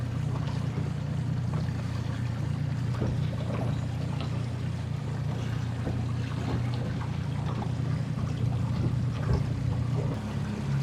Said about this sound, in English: Little bay boat, 150 horsepower Yamaha outboard.